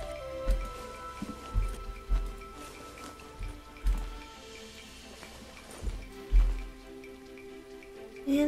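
Soft patter of video game rain with scattered dull thumps and drips, fairly quiet and steady, no voices.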